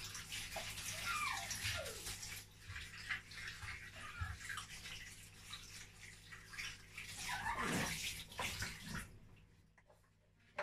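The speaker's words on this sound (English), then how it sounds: "Now I need to wash my hands because I've touched" Running tap water splashes over hands being washed in a home kitchen after handling raw meat, a steady broadband rush with brief louder surges, fairly close and without talk, stopping near the end.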